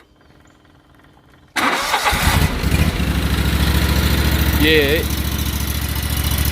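A Ferris Z3x zero-turn mower's EFI 37 horsepower engine cranks and catches abruptly, then settles into a loud, steady low idle close by, with a brief voice heard just before it fires.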